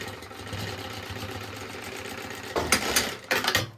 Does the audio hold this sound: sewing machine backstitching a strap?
yes